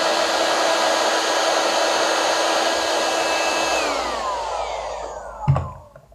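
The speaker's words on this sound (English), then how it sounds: "Bring in the heat gun, switch it on, and we'll just shrink that up to start." A heat gun blows a steady, loud airflow roar while shrink wrap is set on a keel fishing rig, then it is switched off and winds down, ending with a brief knock.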